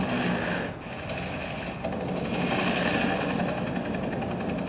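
A military helicopter in a war film scene set in a dust storm, a continuous heavy rotor and engine roar filling the clip without speech.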